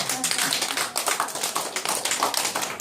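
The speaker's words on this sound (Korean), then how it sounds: "또 한 번 박수 칩시다" Applause from a seated audience at a Korean history and culture seminar and unification prayer ceremony, a steady dense patter of many hands sustained for a few seconds at moderate distance.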